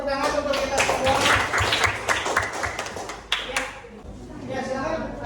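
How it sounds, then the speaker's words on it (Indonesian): A ninth-grade class claps together at the end of a lesson, a burst of dense applause that thins out near the end, with voices talking over it. "Beri tepuk tangan untuk kita semua."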